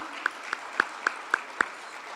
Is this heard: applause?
yes